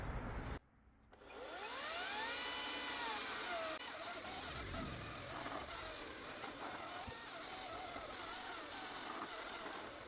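Ryobi 40V cordless 20-inch chainsaw on a 4 amp-hour battery, a brief pause and then a steady, fairly loud electric motor whine that rises and holds, with slight pitch shifts as it runs continuously.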